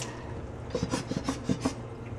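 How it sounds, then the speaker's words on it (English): A soapy sponge scrubs a part of a Soyajoy G4 soy milk maker. Soft rubbing strokes come in a quick uneven rhythm, close by, over a low background hum. "just get your soap on there, and I just scrub it off"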